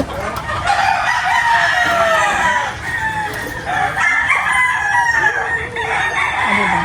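Fighting-cock roosters crow repeatedly nearby, with hens clucking in between and a steady outdoor background, no clear speech.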